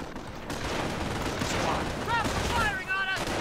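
A firefight in Company of Heroes crackles with dense, overlapping gunfire and bursts that run continuously, with a few brief whistling tones near the end, loud and busy throughout.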